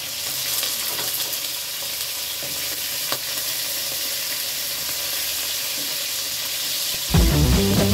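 Tinapa, smoked fish, frying in a pan with a steady broadband sizzle throughout, growing louder and harsher near the end as the fish shifts in the hot oil.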